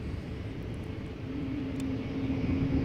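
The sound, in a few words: Embraer E195-E2 jet airliner passing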